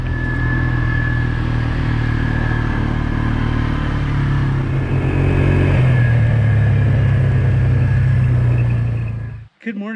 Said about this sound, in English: Ready for a chilly four-wheeler ride?